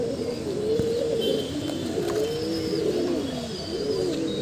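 Soft, repeated cooing of a large, handsome female pigeon, a steady series of low rolling calls close by with faint chirps in the background and no talking.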